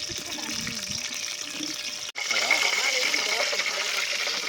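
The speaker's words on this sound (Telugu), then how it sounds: "నీళ్ళు" Water pours and splashes continuously into a cooking pot outdoors in a village, with a brief cut midway, then a fuller gushing flow; voices murmur faintly underneath.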